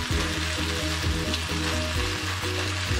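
Egg being stirred into shrimp fried rice with soy sauce in a hot pan, giving a loud, continuous sizzle broken by rhythmic scraping strokes, close and with no voices.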